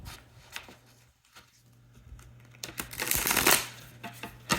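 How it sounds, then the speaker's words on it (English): Stiff new oracle cards being shuffled by hand in close, irregular bursts of papery riffling and rubbing, with quieter gaps and a louder flurry near the end, under a faint steady hum. "I'm gonna have to sit and shuffle these for like 20 minutes straight to really break these cards in"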